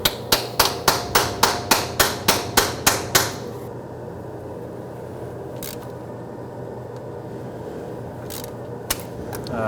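Sharp hammer blows drive an extractor socket onto a stuck thermostat housing bolt on a 1998-2011 Ford Ranger 4.0L V6, about a dozen close, loud, evenly spaced strikes in quick succession, then quiet with a couple of faint metallic clicks.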